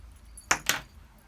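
Scissors snip orange stitching thread twice in quick succession, two short crisp close cuts over a near-silent background.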